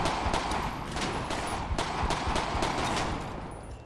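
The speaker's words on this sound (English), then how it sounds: "Oh shoot, shot fire behind me." Rapid bursts of gunfire ring out in GTA 5 during a police gang-unit patrol, with repeated sharp shots in quick volleys over a busy background.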